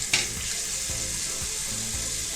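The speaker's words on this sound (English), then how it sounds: "So I just usually let the sponge absorb water." A dirty sponge soaking up water at a sink: a steady wash of running water with soft gurgles and a few low thuds, close and fairly quiet.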